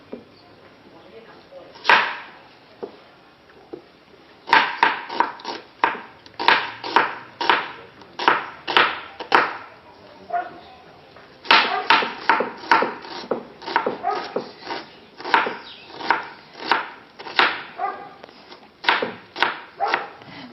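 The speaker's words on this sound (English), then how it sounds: "So I'll start with chopping them." Tomatoes and onions are chopped with a knife on a cutting board, a steady run of quick, crisp knocks in bursts with brief pauses, close and fairly loud, with no talking.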